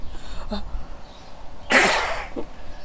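A single sharp, loud sneeze bursts out after a short breath and a small catch in the throat, then trails off.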